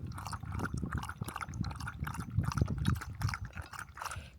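Water pours from a hiking water bottle outdoors at a rest area, an irregular splashing and dribbling close by that continues for several seconds with no talk.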